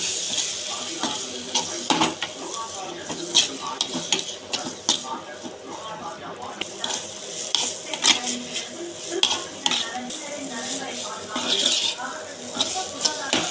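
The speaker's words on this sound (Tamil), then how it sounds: "இப்போ வேக வச்சு எடுத்த மேகியை நம்ம அதில் ஆட் பண்ணிக்கலாம்." Boiled Maggi noodles stirred into a hot spiced pan in a village kitchen, giving a steady close sizzle with repeated scraping and clinking of a utensil against the pan throughout.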